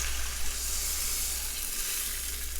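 Rice washing water poured into a pot of sautéing, pepper-seasoned ingredients, giving a steady loud sizzle and hiss with a low hum underneath.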